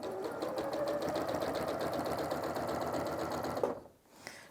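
A home sewing machine stitches through a quilt, running at a steady rapid clatter close up for several seconds before it stops abruptly, leaving a brief quiet mechanical hum.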